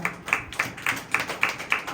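A church congregation claps hands together in worship, keeping a steady, even beat of about seven sharp claps in under two seconds.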